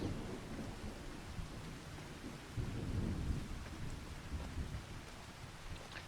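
Rain and rumbling thunder in the Farming Simulator 25 game, a soft continuous patter with a low roll of thunder building and fading midway, all faint and distant.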